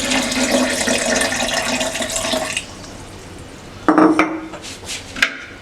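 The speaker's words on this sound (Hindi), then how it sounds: "अब इसमें पानी ऐड करेंगे।" Water pours steadily into a mint lemon sharbat mixture with black salt and icing sugar, a rushing splash for about two and a half seconds, followed by a few close clinks and knocks of kitchenware.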